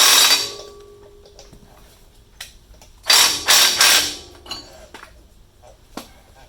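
A ratchet and toothed axle-nut socket working on the inner axle nut of a Dana 44 axle: a rapid burst of clicking at the start, then three loud close ratcheting strokes in the middle, with scattered lighter clicks between.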